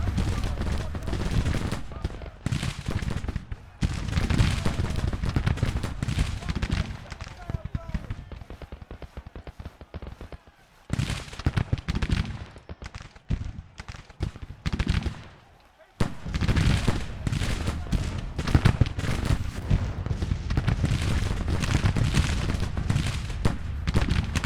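Gunfire in Grand Tactician: The Civil War during a Federal campaign in summer 1861, with rolling musket volleys and dense crackling fusillades that come in loud waves with short lulls between them.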